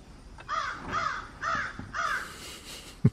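A crow caws four times in a steady rhythm, fairly close and clear, followed by a short knock at the end.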